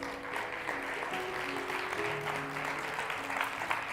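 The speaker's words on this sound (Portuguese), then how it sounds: "Você pode aplaudir ao Senhor?" Congregation clapping together during a church worship service, a steady dense applause with no gaps, loud and close, filling the whole stretch alongside faint musical tones.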